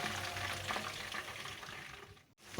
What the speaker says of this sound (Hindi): यहाँ पे मैंने बाकी पीसेस को भी फ्राई करने के लिए रख दिया है